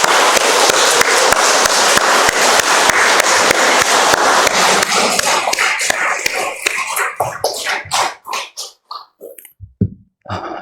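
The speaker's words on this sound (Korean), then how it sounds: "우리 함께 박수합니다." A church congregation applauds together during a missionary commissioning service, dense sustained clapping that thins out into scattered separate claps and fades near the end.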